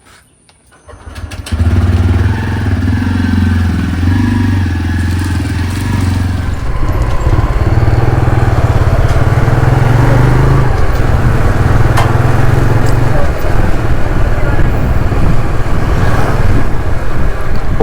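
Motorcycle engine starting with a brief crank, catching and settling into a steady, loud idle before revving up and pulling away, its engine roar close and continuous while riding.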